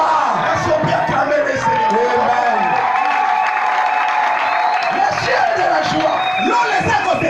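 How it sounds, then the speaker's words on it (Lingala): A church congregation cheers and acclaims the Lord, a loud, dense, sustained roar of shouting, whooping voices and clapping that carries on steadily without a break. "Est-ce qu'on peut acclamer le Seigneur?"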